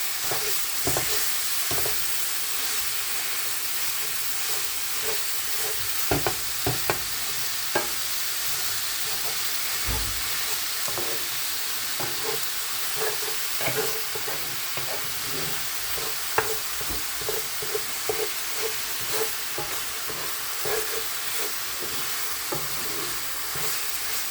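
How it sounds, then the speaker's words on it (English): Ground turkey for shepherd's pie fries in a pan with a continuous hiss. Repeated spatula taps and scrapes break up the meat throughout. "you're going to add your ground turkey in there, and just break it up"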